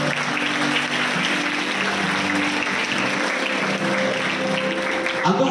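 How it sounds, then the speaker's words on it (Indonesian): Students at a pesantren farewell motivation session in Bogor applaud together, a broad, even wash of clapping lasting several seconds with a low hum running underneath. "Tepuk tangan untuk Fathah Membina dan agama itu."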